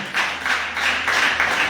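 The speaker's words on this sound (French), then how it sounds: "Applaudissez-moi" Brief, steady applause from a church congregation at a conference, a dense patter of many hands clapping at once.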